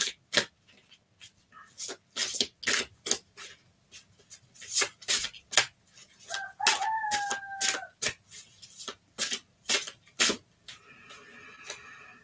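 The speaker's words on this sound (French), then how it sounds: "Avec le coq qui chante, d'ailleurs" A rooster crows once midway, a drawn-out call set among many sharp, repeated dog barks that pulse loudly and close throughout.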